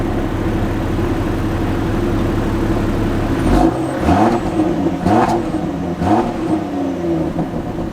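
Lexus GX550 or Land Rover Defender SUV driving, a steady close engine hum that breaks into several short bursts of clunks and thumps in the second half.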